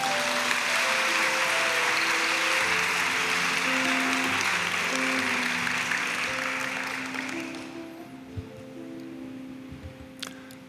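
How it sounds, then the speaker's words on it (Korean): A congregation at a Wednesday morning women's worship service gives loud, steady applause to welcome a missionary. The clapping holds evenly for several seconds, then fades away, leaving a few faint knocks in a quiet room. "우리 큰 박수로 한번 환영할까요?"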